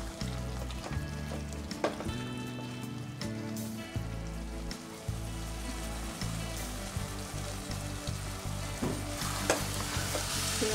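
Prawns and broad beans fry in a pan with a dense, rain-like sizzle and repeated spatula scrapes and knocks, loud and close with no talking.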